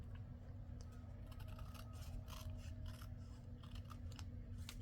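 Scissors snip the corners off paper during a paper craft project, a series of close, quiet crisp cuts with small scraping rustles between them and no talking.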